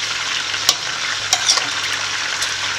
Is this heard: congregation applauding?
no